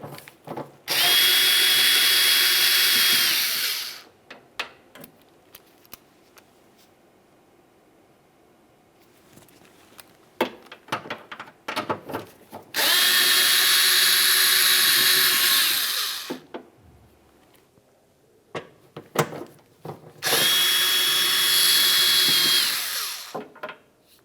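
A power tool spins off 11mm nuts on a 2009–2019 Ford Flex liftgate in three loud, sustained whirring bursts of a few seconds each, separated by quieter clinks and handling noises.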